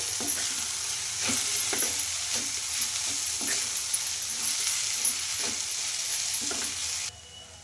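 A potato mixture with green chili and cumin powder is stirred in a sizzling pan, a steady frying hiss carrying repeated scraping clinks of the spoon against the metal, close and clear.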